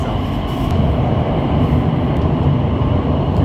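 A CRRC-built Shenzhen Metro train on Line 2 rolls along with a loud, steady roar of wheels and motors, continuous and close, heard from inside.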